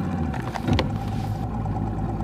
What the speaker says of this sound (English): I'm going to fire the engine up and re-aim us back towards that waypoint